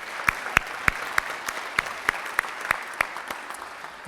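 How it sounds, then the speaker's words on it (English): Indoor audience at a Rotary club meeting claps steadily with crisp, evenly spaced hand claps that stay close and fairly loud for a few seconds before gradually thinning out. "Let's give Ron Dumas another round of applause"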